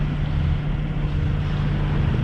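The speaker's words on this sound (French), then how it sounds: "nous sommes toujours au moteur" A boat under engine power on a flat, calm sea out of Cannes, with a steady low motor drone and constant wash of wind and water noise, no voices.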